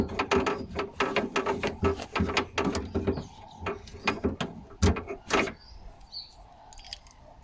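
A ratchet tightening a bolt on an Isuzu KB 280 key lock, rapid rhythmic clicking strokes in close quick bursts for about five seconds, then quiet faint handling sounds.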